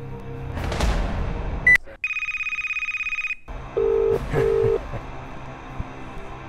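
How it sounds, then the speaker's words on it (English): A phone rings with a steady electronic tone, followed by two short beeps, with a noisy room in the background. "It's ringing."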